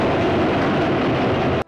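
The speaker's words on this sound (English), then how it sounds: "Lewton reworked Cat People's bus scare, this time with a train" A train in a 1940s suspense film scene gives a loud, steady rumbling roar that fills the whole moment and then cuts off abruptly at the end.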